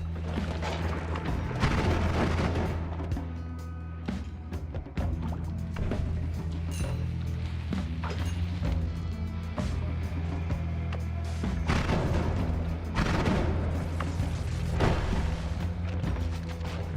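Bomb blasts boom inside the video game Noita, sounding as dense, continuous low rumbling bursts over a busy bed of game sound with no talking.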